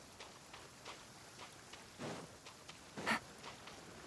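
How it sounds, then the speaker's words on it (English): Rain falls in the game Genshin Impact as a soft, faint patter with a couple of slightly louder swells of rushing water, with no voices. "raining again? Oh, this isn't good."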